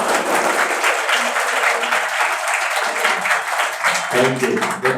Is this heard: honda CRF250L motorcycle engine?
no